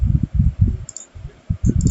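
A mouse clicks on a print button in a desktop application, giving a couple of light, quick clicks under low, muffled background noise.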